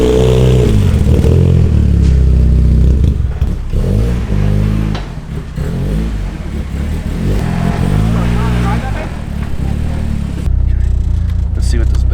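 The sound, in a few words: car engine revving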